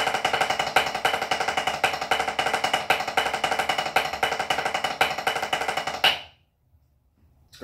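Shirley Murphy drum rudiment, a triple stroke roll variation, played at full speed: a dense, loud, buzzing stream of rapid strokes that stops abruptly into silence near the end.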